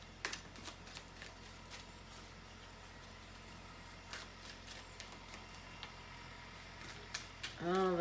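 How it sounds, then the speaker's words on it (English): A deck of tarot cards being reshuffled by hand, a soft continuous riffling and flicking close by at low volume, with a few sharper card snaps scattered through and a brief voice sound at the very end. "I'm gonna get a reshuffle. I get a reshuffle over here."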